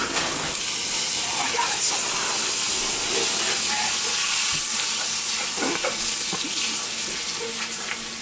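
Butter sizzling and hissing steadily in a hot pan as it melts, a continuous close frying crackle with a few scrapes and stirring clicks, no talk.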